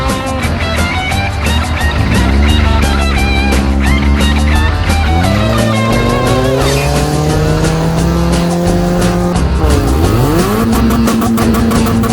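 A loud engine roars continuously nearby, its pitch rising and falling as it revs up and down.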